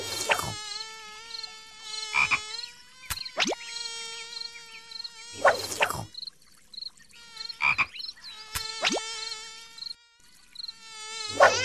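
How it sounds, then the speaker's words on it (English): Cartoon mosquitoes buzz in a Baby Panda kids' video game, with a steady tonal game soundtrack, bright chimes and repeated short buzzing and croaking effects recurring across the clip. "Let's trap some mosquitoes."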